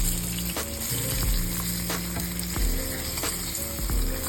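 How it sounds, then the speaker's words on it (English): Flour-dredged milkfish fillets frying in hot oil, a dense continuous sizzle with a few sharp clatters and scrapes from the pan, close up, no talking. "Next, we dredge the fillets in flour. And then we fry the fillets."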